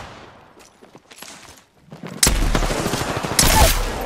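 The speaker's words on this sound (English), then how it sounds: "I'm spotted. Taking fire." Automatic gunfire in the shooter game Apex Legends erupts in sustained, loud bursts after a quieter stretch of scattered distant shots, the rapid volleys close and dense, with a second heavy burst near the end.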